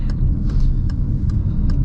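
A Peugeot 2008 engine hums in a low, steady drone from inside the cabin, with faint periodic ticks over the rumble, brief and continuous throughout.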